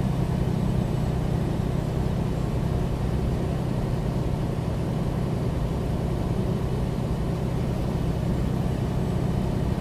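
A truck engine under throttle at about 53 mph on a Southern California highway, a steady low rumbling drone holding constant and close, with no pauses or talk.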